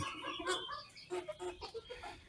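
Chickens on a small backyard poultry farm cluck in short, irregular bursts close by, several birds calling over one another in a busy, uneven rhythm.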